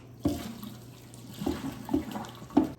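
Hot pickling liquid from ginger being poured and strained through a colander, heard as close splashes and gurgles that come in several bursts over a few seconds, with no talking.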